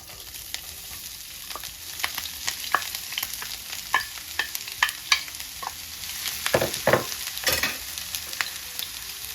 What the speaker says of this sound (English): we're gonna go ahead and add our chopped onions